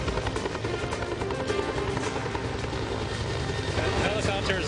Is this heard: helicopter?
yes